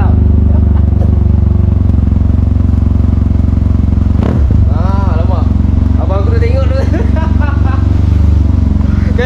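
Loud, steady engine drone of a small motor scooter while riding, with people talking over it and a brief clatter midway.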